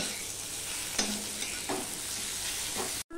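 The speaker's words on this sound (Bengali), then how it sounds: "টমেটোটা যতক্ষণ না নরম হচ্ছে ততক্ষণ পর্যন্ত আমি ভেজে নেব" Tomatoes fry in a pan for a Bombay duck (lote fish) curry, a steady close sizzle broken by a few spatula scrapes and stirs, with no talking.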